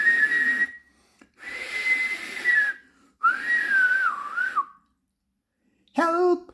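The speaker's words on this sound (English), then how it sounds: "he heard our engine whistling" A cartoon steam engine's whistle sounding three long, wavering blasts separated by short silences, followed by a brief harsher burst at the end, fairly clear with no talking.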